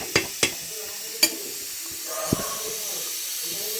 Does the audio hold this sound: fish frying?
yes